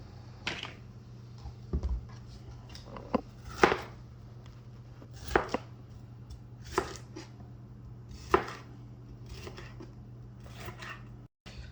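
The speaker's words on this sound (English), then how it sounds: "get all my vegetables chopped" Knife strikes on a cutting board while vegetables are chopped for steak fajitas, a series of close, sharp chops spaced a second or two apart over a low steady hum.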